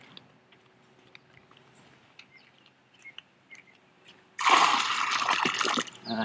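Liquid pool chemical is poured from low down into backyard swimming pool water near a return jet, a sudden steady splashing gush after quiet outdoor ambience with faint birds.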